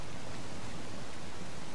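Waterfall in the game Uncharted: The Lost Legacy, set in the Western Ghats: a dense, steady rushing roar of falling water, loud and unbroken, with no voices.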